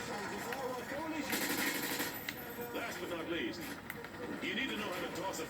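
Gunfire on a shooting range in Call of Duty: Modern Warrior 2, rapid repeated shots crackling over a steady background under an instructor's talk, fairly loud throughout.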